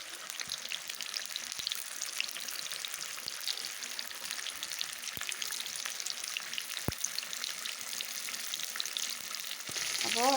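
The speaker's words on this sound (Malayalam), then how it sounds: "അപ്പോൾ നമുക്ക് ചിക്കൻ പൊരിച്ചെടുക്കാം." Chicken pieces frying in hot oil in a home kitchen, a steady close crackling sizzle with dense popping that runs throughout, occasional sharper pops, and a slight rise in intensity near the end, with no talking.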